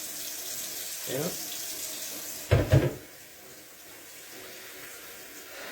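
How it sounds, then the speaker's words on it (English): Tap water running into a kettle in a home kitchen, a steady hiss of flowing water with a clunk of the kettle being handled and a brief word spoken. "put some more water in the kettle"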